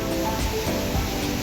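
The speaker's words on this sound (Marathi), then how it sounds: "बघा मित्रांनो, खूप जोरात पाणी मित्रांनो." Water surges hard through Nandur Madhmeshwar dam, a loud continuous roar of rushing, churning flow with no break and no voices.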